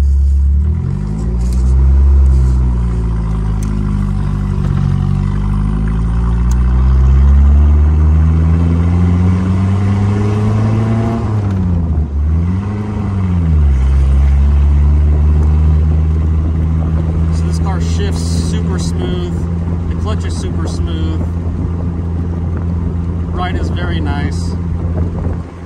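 A Mercedes Gazelle replica car driving along, its engine droning loudly with revs rising and falling through gear changes, wind buffeting the microphone, and a voice speaking briefly over the noise.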